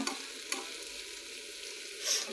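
Taro stolons sizzling in a pan with prawns as a spoon stirs them now and then, a quiet steady fry with a few scraping strokes and no voices.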